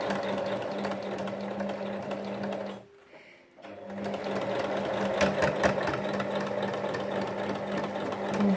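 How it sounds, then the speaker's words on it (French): A sewing machine runs steadily, stitching along the bottom of a handmade fabric basket, with a brief pause near three seconds before the motor resumes its continuous whirring hum. "on pique sur le trait pour que ce soit bien solide"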